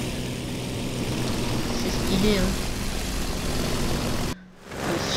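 Propeller engine of a Stuka dive bomber in the video game War Thunder, a steady droning hum that drops out abruptly near the end and then returns, heard under a brief spoken comment.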